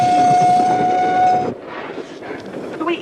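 Steady rumble of a moving train with a sustained whistle-like tone that cuts off midway, leaving quieter rolling noise and faint clatter.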